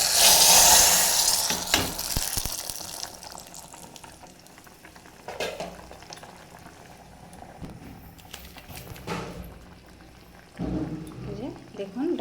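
Lentil dal tempering in a pan, opening with a loud burst of sizzling that fades into quieter bubbling and crackling, with a person talking over it.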